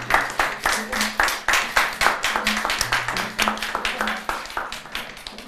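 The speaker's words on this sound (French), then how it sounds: "j'aimerais que l'on applaudisse" A studio audience applauds for a band on a French-language music television magazine: dense, steady clapping from many hands, fairly close and sustained throughout, with a low tonal hum beneath.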